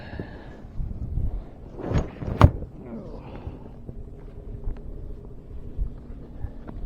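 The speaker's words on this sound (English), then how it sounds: "as you can tell, it's a little windy" Gusty wind blowing outdoors during a FedEx delivery stop, rumbling low and buffeting the microphone steadily, with a few brief knocks and scrapes of a door nearby.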